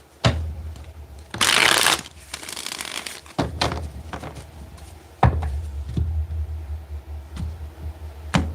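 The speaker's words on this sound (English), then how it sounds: "Let's get one more good shuffle." Tarot cards are shuffled by hand close to the mic in several short bursts of riffling and slapping, with a longer, louder riffle near the start and softer taps and card handling between.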